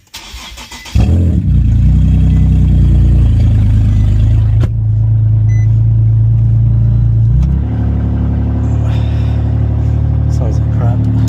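An Infiniti FX37/QX70 with the stock exhaust and no Y pipe fitted starts up with a loud crank, then settles into a deep, rough, close idle that holds steady, rising slightly in pitch near the end.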